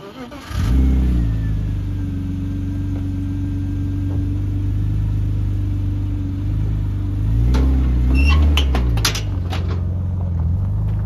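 A car engine catches and settles into a steady, loud idle, then revs and pulls away around the end, with the low rumble rising in pitch as it drives off; no speech.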